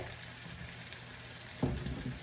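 Potatoes fry in a pan with a steady, close hiss of sizzling oil throughout, and a brief stir or clatter is heard near the end.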